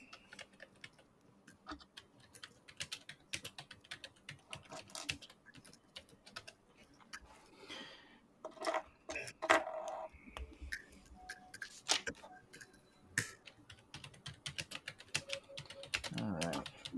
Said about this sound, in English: somebody's typing. Me. Sounds like a clunky keyboard.